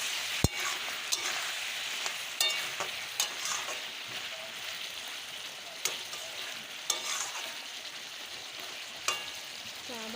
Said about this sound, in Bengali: আমি লাউটা ভালো করে কষিয়ে নেব।